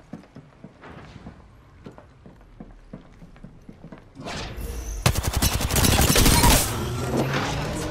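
Gunfire from the Apex Legends video game: a run of faint, sparse clicks and footsteps, then at about four seconds loud rapid automatic bursts that hammer on to the end, with no talk.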